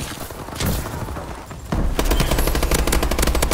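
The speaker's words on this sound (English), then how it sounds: "Right here is probably the best multi-kill I've gotten with a gun in this game." Rapid bursts of gunfire from Call of Duty Advanced Warfare during a multi-kill, loud and dense throughout, growing heavier and more continuous in the second half.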